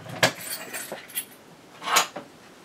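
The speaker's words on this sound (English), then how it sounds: "And my keys jingling." A bunch of keys jingles in a few short metallic bursts, close and bright, with quiet gaps between the clinks and no talking.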